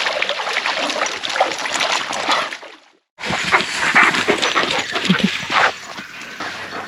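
Dogs swim and splash in a reedy freshwater spot in the outback along the NSW–Queensland border, with continuous close sloshing broken by a brief quiet gap, then more vigorous splashing.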